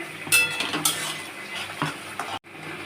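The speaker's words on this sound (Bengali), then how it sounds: "দিয়ে একটুখানি নেড়ে" Chopped tomato is stirred into fried potatoes in a pan while cooking a soybean and poppy seed dish. A spoon scrapes and clinks against the pan in a few short bursts over a soft, steady sizzle. There is no talking.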